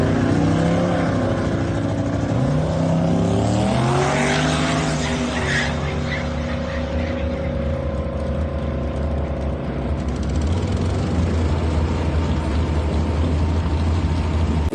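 A turbocharged LS-powered Chevrolet 3100 rat rod pickup with a 462 engine makes a drag race run, its loud engine rising through gears in a sustained roar with rising and falling pitch sweeps and possible tire noise.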